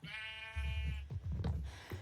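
A sheep in the Minecraft video game gives one clear, wavering bleat up close, followed by a few short, low thumping game sounds.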